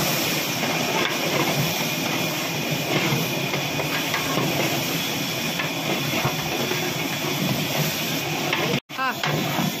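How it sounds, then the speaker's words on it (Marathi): Chopped onion and ground masala fry together for a mutton curry, giving a loud, continuous dense hiss and crackle that fills the whole stretch, with voices faintly underneath. "आता हा मसाला टाकून सगळा मसाला एकदम मस्त फ्राय करून घेत आहेत"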